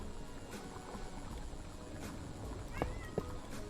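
A cat meows twice in quick succession near the end, short faint calls over a steady low background hum.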